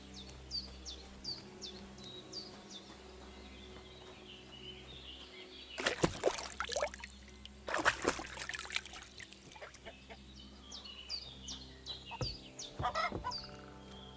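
Chickens cluck in a farmyard in the video game Kingdom Come: Deliverance 2, with short repeated calls throughout and a couple of louder clattering bursts in the middle.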